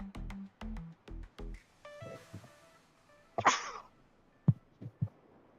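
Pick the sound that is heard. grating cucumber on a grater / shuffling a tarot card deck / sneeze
sneeze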